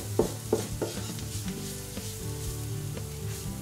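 Steady sizzling of onion and flour frying in a pan, with a few louder stirring scrapes near the start, then an even crackle.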